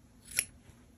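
A single quick snip of scissors cutting crochet yarn tails, close and crisp against a quiet background.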